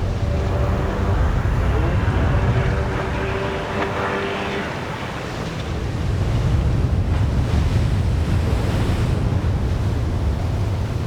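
Ocean surf roars continuously with heavy wind buffeting the microphone, a steady wash of waves swelling and easing throughout, heard from a small boat out at sea.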